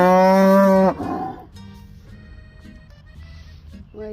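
Cows on a farm bellow with one long, loud moo up close, then a second shorter call, before quieter lowing and farm background sounds follow; another moo rises at the end, with no talking.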